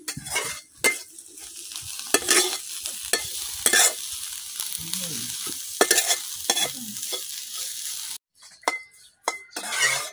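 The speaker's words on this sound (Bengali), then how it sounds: "আমার ইসা মাছগুলা কিন্তু বাজা হয়ে গেছে।" Small shrimp frying in a pan for a shrimp mash, with a steady close sizzle broken by repeated scraping stirs and light clinks of the utensil against the pan.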